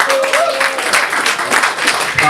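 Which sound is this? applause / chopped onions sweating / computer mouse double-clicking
applause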